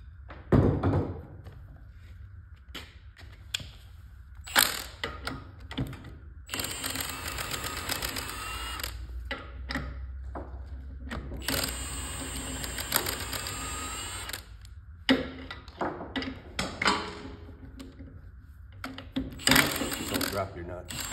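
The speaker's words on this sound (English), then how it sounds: "I'm gonna use an impact because I'm lazy." Pneumatic impact wrench removing wheel nuts during trailer bearing replacement, loud bursts of buzzing hammering several seconds long, separated by pauses filled with clanks and handling noise, close by.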